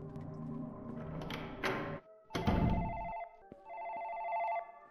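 A telephone rings in a horror video game set inside a house, with electronic bell-like tones in bursts separated by pauses and a louder rumble in the middle, fairly close and without speech.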